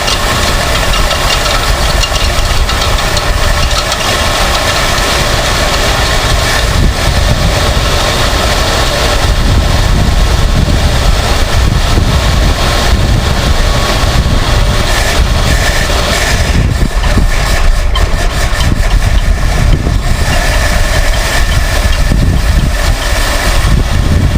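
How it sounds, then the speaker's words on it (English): A loud engine of a 1978 Lincoln Town Car, started after sitting abandoned, runs steadily with a harsh, rattling metallic clatter from its flex fan mixed into its drone, continuous and close throughout. "That clanging noise, it's got a flex fan on it."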